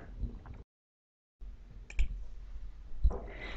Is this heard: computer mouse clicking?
yes